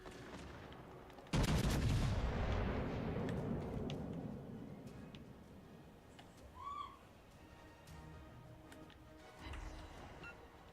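Warship main-battery guns fire a single heavy, booming salvo in World of Warships: Legends, followed by a long rumbling decay and a few fainter distant shots and small tonal effects.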